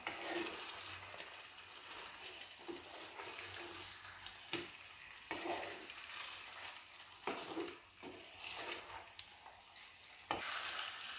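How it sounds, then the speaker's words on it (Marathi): Boiled mutton frying in masala for a spicy mutton rassa fills the clip with a continuous close sizzle, broken by repeated scraping stirs and bursts of louder crackling, with no talk. "या मसाल्यामध्ये आपण 2 ते 3 मिनिट आपण हे छान फ्राय करून घ्यायचं आहे"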